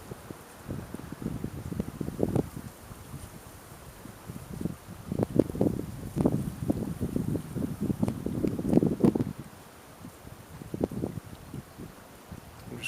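Strong gusty wind of about 30 miles an hour buffets a fishing spot beside a river current, rising and falling in rough rumbling bursts close to the microphone.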